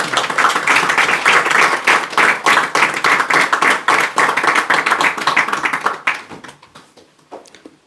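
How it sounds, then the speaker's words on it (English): An audience claps after a spiritual talk, giving a burst of loud, fast, dense hand claps that thins out to a few scattered claps and then silence. "So clapping is information."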